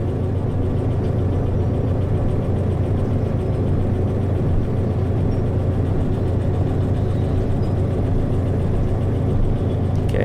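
A locomotive engine in the train simulator game Derail Valley drones at a steady low pitch with the throttle raised slightly, a loud, continuous mechanical rumble with no talk.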